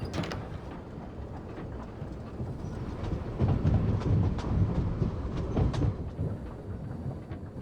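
A train in the Genshin Impact video game runs along its rails with a steady, close rumble and a faint rhythmic clatter; no one talks.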